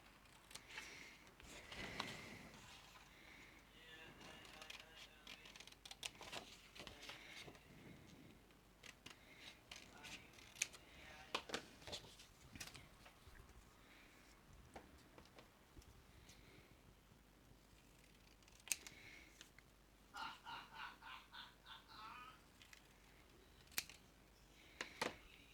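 Scissors trim out a small vintage-style paper signature piece with soft, close snips and light paper rustling. The sound is quiet throughout and nobody speaks.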